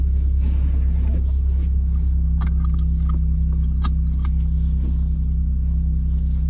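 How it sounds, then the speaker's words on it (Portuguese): A 1995 Dodge Neon Sport Coupé engine drones steadily while driving, a loud, constant low rumble with a few faint clicks and rattles inside the cabin and no talk. "vou dar uma volta com o neonzinho"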